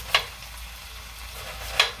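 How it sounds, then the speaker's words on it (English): Potatoes fry in a pan with a steady, even sizzle. Two sharp little clicks, like a utensil tapping, come near the start and near the end. "potatoes right there that are frying up"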